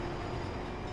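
A train rushes past in the racing game The Crew, giving a steady, loud rumble and roar that fills the whole moment without any talk over it.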